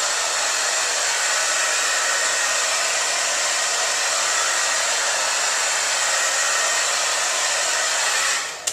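A handheld hair dryer runs steadily and loudly the whole time, a constant broadband blowing roar while drying hair, with no talking, cutting off at the very end.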